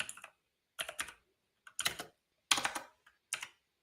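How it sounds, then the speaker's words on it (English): Fingers tap on a computer keyboard in short clustered bursts of clicks separated by brief pauses, close and crisp with no talking. "this keyboard is giving me a hard time"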